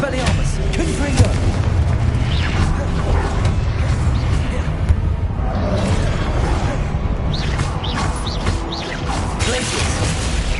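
A Confringo explosive spell blasting in the Hogwarts Legacy wizard game, dense booming impacts and whooshing effects layered in a busy, continuous combat mix with a voice talking over it.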